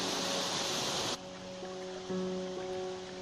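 Steady, loud rushing of a waterfall heard close by in a village gorge, a dense broadband roar that drops slightly after the first second and carries on unbroken, with faint tonal hum underneath.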